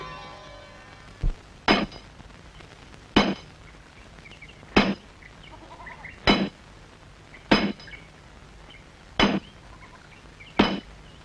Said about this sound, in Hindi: हथौड़ा मेरे को दो, मैं चलाती हूँ हथौड़ा